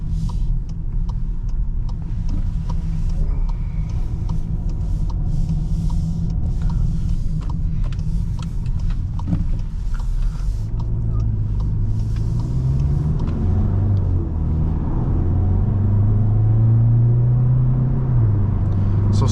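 A 2025 VW Jetta GLI pulls away from a stop, its engine note rising steadily through the gears as a continuous interior rumble, with harmonic sweeps climbing and dropping at each shift; no voices.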